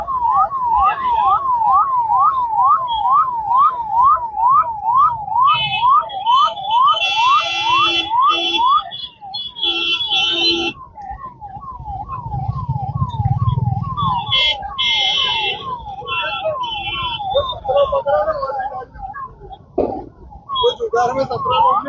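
A police car siren, a Janrakshak 112 vehicle stuck in a traffic jam on Akota bridge in Vadodara, wails in a fast repeating rise-and-fall cycle, loud and unbroken, over a constant rumble of traffic.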